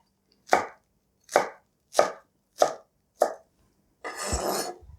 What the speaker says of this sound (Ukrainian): Відрізаю ніжну частинку і ріжу такі досить крупні шматки.